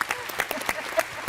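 Brief burst of applause from a festival panel audience for a TV drama cast, steady overlapping claps over a short stretch with some voices mixed in.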